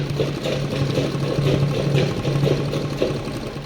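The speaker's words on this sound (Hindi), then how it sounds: "पहला हम एक इधर आधा आधा इंच छोड़ते हुए इससे पूरे पे सिलाई लगा लेंगे" A sewing machine stitches along a fabric strip for an embroidered sleeve, running as a close, steady rhythmic mechanical whir with a fast, regular pulse and no talk.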